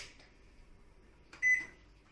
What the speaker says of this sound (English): Now I've done that, I'm going to put the oven on preheat. So I'm pressing it.